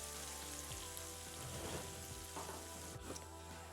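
Chopped capsicum and onion sauté in a hot pan with a constant soft sizzle, broken by a few light stirring scrapes and knocks; fairly quiet and with no one talking.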